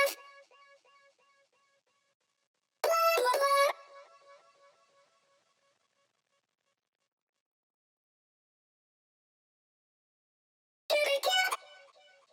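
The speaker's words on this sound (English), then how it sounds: "I also have this like vocal chop thing that's going on, and that sounds like this" A vocal chop layer from a pop song's chorus plays as two short, bright bursts of chopped, pitched voice fragments spaced far apart, each trailing off into faint echoes over silence.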